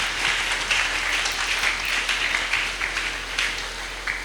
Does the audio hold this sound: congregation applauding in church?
yes